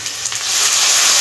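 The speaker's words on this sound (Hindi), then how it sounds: "थोड़ा सा पानी डालूँगी," Water hits onion and garlic-ginger paste frying in a handi, setting off a loud, steady sizzle and hiss that swells and holds close up.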